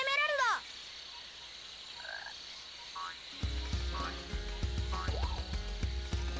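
Frog croaks from the video game Sonic Adventure DX: a run of repeated croaking calls sounding over game ambience and music, with no talk, the backing growing louder partway through.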